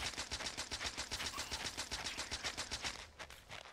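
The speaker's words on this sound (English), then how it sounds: "maybe I should actually use the SMG" Rapid submachine gun fire in Factorio with the Krastorio 2 mod, a steady, fast stream of shots close up that runs for several seconds and then trails off.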